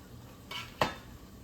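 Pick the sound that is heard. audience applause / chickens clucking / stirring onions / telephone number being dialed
stirring onions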